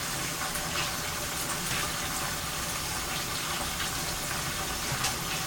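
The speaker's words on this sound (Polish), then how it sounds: "Teraz dolewamy zimne mleko." Cold milk pours steadily into a pot for carbonara, a continuous liquid gush and fill that runs without a break, moderately loud and close, with no talking.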